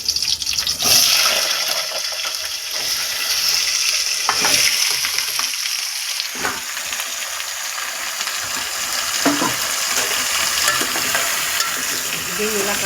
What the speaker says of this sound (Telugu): పచ్చి వాసన పోయే వరకు ఇలా ఫస్ట్ బంగాళదుంపలు వేపుకోవాలి